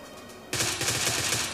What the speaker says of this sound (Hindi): बरसा दो गोलियां